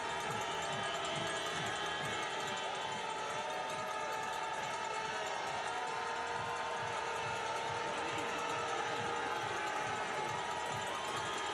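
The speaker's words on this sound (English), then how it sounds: "that's the second biggest cheer of the day" Spectators cheering at a men's 10 km sprint of the biathlon World Cup in Otepää: a continuous, loud roar of crowd noise filled with horns and whistles, holding steady without a break.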